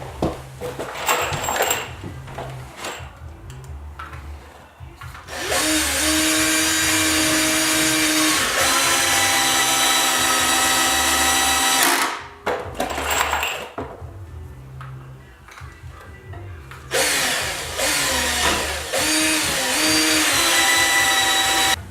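A power drill drives screws into metal strong ties on a DIY reloading bench, several loud sustained whirring bursts with short pauses and clunks between, no talk.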